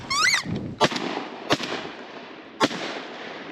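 Three sharp shotgun blasts ring out during a wood duck hunt in Hyde County, each echoing briefly outdoors at moderate distance, after a rising whistled squeal at the start.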